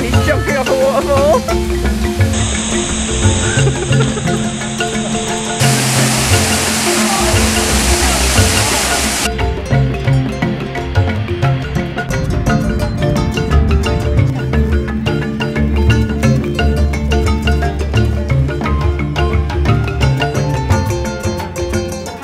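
Steady, full rushing roar of a waterfall in the South African wilderness, close and continuous, with a brief tonal sound early on.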